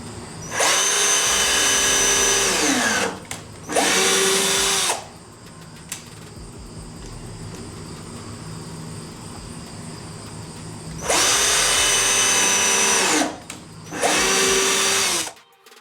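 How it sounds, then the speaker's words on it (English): A power drill boring pilot holes for screws in wood while building a sandbox with a folding bench lid; four loud whining bursts come in two pairs, with a quiet gap in between. "now we're going to drill our pilot holes for our screws"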